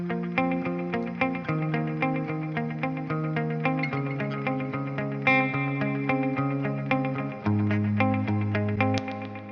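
Electric guitar from a mix runs through a 16th-note delay and a four-second reverb at 25% mix, playing steady, sustained chords and notes with rhythmic echoes and a distorted, chorused shimmer, loud and alone.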